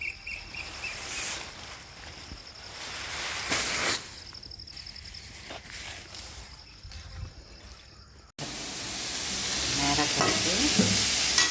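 Cabbage stir-fried in a home kitchen pan, with steady sizzling and scraping stir strokes close to the mic; the frying grows louder and denser toward the end.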